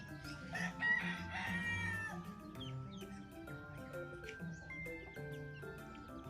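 Young chicks set down on the ground in a small backyard poultry setup, with steady peeping and clucking alongside nearby fowl calls, continuous and fairly close, no talking.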